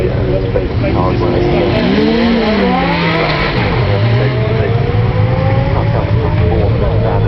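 BMW M3 GTS, a caged road car with no rear seats, driving at the Goodwood Festival of Speed: a loud engine note rising and falling through gear changes, with other engines and someone talking over it throughout.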